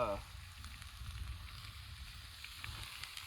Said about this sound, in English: I'm cooking in a cast iron skillet